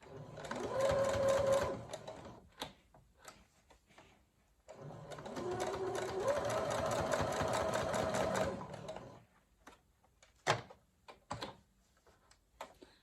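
Sewing machine stitching a rounded ruffle along a fabric edge, running in two steady bursts of a few seconds each with a brief pause between, followed by quieter clicks and handling noises.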